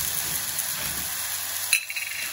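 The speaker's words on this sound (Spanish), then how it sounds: "Lo vamos a saltear 2 o 3 minutitos." Food sautés in a pan on a home stove, a steady loud sizzle with a brief clatter of stirring near the end.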